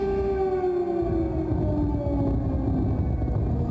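An air raid siren in Kyiv, Ukraine wails continuously with slowly sliding tones over a low rumble, loud and steady throughout.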